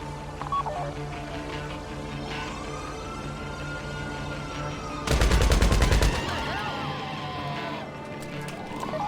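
Gunshots ring out in a prison-break heist video game. A loud, dense burst of fire erupts midway through a steady background of game ambience and music, then fades back to the quieter scene.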